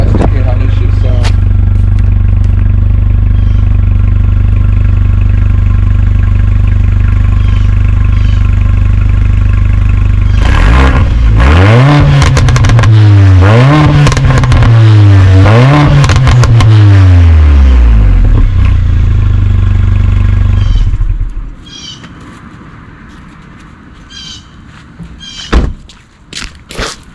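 AMG car with a transmission problem, its engine idling steadily, then revved several times in rising and falling sweeps, loud and close, before dropping off; faint clatter follows.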